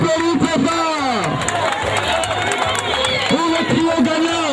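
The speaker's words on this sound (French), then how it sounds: "Est-ce qu'on peut applaudir trop fort" A festival crowd applauds and cheers for the winning trio of a Miss pageant, dense clapping with shouts and excited voices throughout, loud and close.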